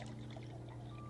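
Milk is poured into a glass, giving a short soft trickle that is faint and close, heard against a low steady hum with no talking.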